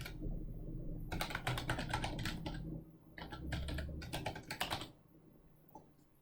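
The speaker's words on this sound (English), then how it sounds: "So I'll just type in a company name and a website address." Keys clack in quick bursts as someone types a company name and website address on a computer keyboard, with short pauses between runs of strokes; close and clear, no voices.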